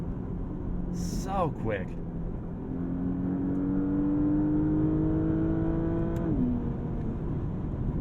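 A 2021 Porsche Panamera base model with 325 horsepower accelerates hard, its engine rising steadily in a sustained climbing whine toward the 6,800 RPM redline before dropping sharply at the upshift, while someone speaks briefly over the start.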